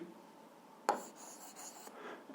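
Pen writing out notes for a school physics problem on paper: faint, soft scratching with one brief sharper stroke near the start, close by and quiet, with no talking.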